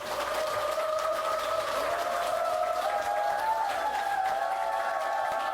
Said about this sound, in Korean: 박수로 모셔요.